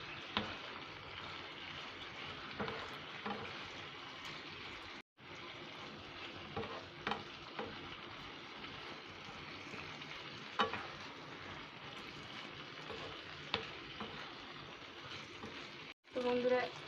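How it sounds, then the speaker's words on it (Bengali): Chicken pakoras being stirred and fried in a pan for chilli chicken, with a continuous soft sizzle and intermittent scraping taps of a spatula, interrupted by two brief cuts to near silence. "এরপর দিয়ে দিচ্ছি চিকেন পকোড়াগুলো। এটাকে ভালো করে নাড়াচাড়া করে নেব।"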